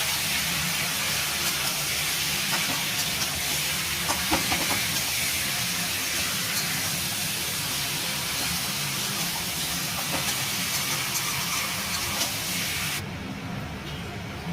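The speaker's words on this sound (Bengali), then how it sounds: "সামান্য একটু হলুদ আর অল্প চিনি দিয়ে একটু ভাজবো, অল্প একটু ভাজবো।" Turmeric and a little sugar fry in a pan for home-style chicken curry, giving a steady, loud hiss of oil that runs unbroken and close for the whole stretch with no talking.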